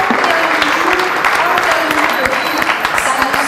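A large crowd at a press conference gives loud, continuous applause, a dense even patter of clapping, with a voice faintly audible underneath.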